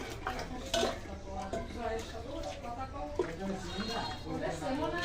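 A metal pot of cooked chana dal, a sour lentil dish with a coconut tempering, is lifted off the stove with scattered clinks and clatters of cookware, while someone talks over the sounds.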